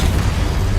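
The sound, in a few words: Exposo spell explosion in video game Hogwarts Legacy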